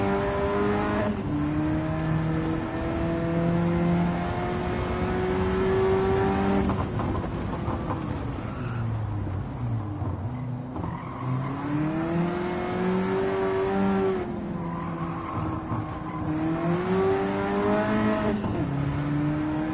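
Race cars lapping in Gran Turismo 7, including a Renault 5 and an Alpine, with steady engine drone that rises and falls through gear changes and revs, loud and continuous throughout.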